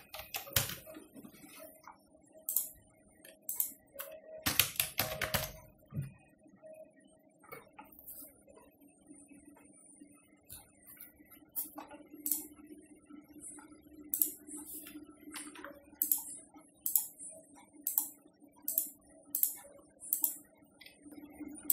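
An account holder's name being typed into an online form: light key taps, sparse and scattered at first, then a quicker, regular run of clicks near the end over a faint background hum, with no speech.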